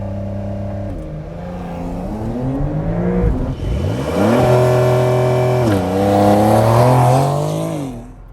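A 2021 Porsche 911 Targa launches hard with launch control, its engine revving up through rising gear pulls, with a brief shift dip before climbing again loud and close.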